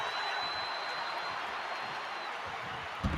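A stadium crowd in the WWE 2K25 wrestling video game roars steadily as a dense, loud wash of cheering and applause that holds through the moment, with a faint thump near the end.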